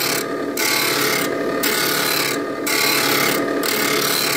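Knife being ground on a grinding wheel to form its primary bevel, a continuous abrasive rasping and scraping that pauses briefly about once a second as the blade is lifted and set back against the stone, steady and close.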